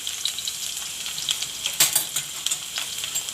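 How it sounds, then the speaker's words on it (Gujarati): Chopped garlic fries in hot oil for Indian-style masala pasta, with a bright, continuous sizzle and crackle and a few sharper spatters and stirring sounds. Close up, with no talking. "તેલ ગરમ થઈ ગયું છે તો પહેલાં આપણે લસણ નાખી દેવું"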